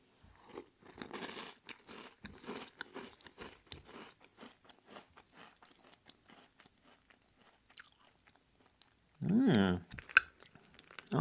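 Crunchy chewing of Little Debbie's Swiss Rolls cereal, soaked in milk, heard up close as a steady run of soft bites and crunches, with one louder burst of crunching near the end.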